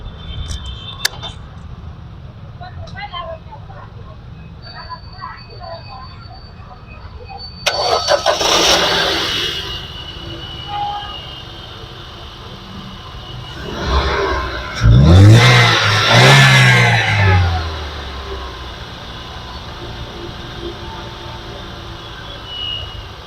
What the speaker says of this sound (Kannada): Engine sound ಕೇಳ್ಕೊಳ್ಬೋದು.